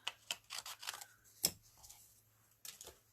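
Scissors snip a small piece off an adhesive-backed sheet in a quiet room, a few crisp close cuts followed by soft rustling and handling, with one sharper snip standing out midway.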